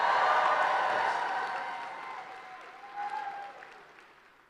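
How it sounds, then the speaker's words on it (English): A large rally crowd in Milwaukee applauds and cheers, a dense, loud wash of clapping that slowly fades over several seconds, with a brief swell near the end. "Please give yourself a round of applause."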